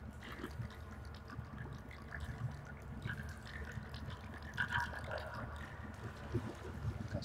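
Water being collected in The Forest video game: a steady liquid trickle and gurgle with small drips, faint and continuous under a low game ambience, no talk.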